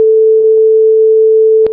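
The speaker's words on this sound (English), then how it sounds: "now we have a very, very high sine wave, and now we can hear that" Pure sine wave tone from a synthesizer demonstration, a single steady loud tone held unbroken, with a few faint clicks and a sharp click near the end.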